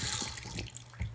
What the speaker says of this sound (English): And then I turn on the water.